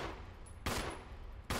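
Handgun shots in a Resident Evil game, two sharp loud reports spaced about a second apart over a steady noisy background.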